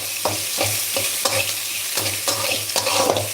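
Chana dal, mustard seeds, urad dal, curry leaves and a single green chili sauté in hot oil, a loud close sizzle with regular rhythmic scraping stir strokes about every half second.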